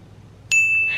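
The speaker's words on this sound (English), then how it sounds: "Don't forget to hit the notification bell." A single bright electronic ding sounds suddenly after a moment of near silence, a clean chime tone that rings on and slowly fades.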